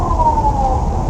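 A police car siren wailing loudly and close, a single steady tone sliding slowly downward over a heavy low road rumble, as if heard from inside a nearby vehicle at night.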